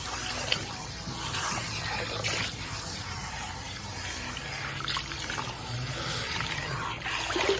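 Water runs steadily from a salon tap while wetting very coarse, very thick hair, a soft continuous splashing hiss at low volume with no talking.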